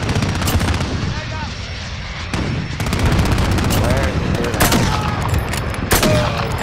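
Gunfire in an online multiplayer shooter game: repeated shots and bursts crackle throughout, fairly loud, with player voices talking over the action.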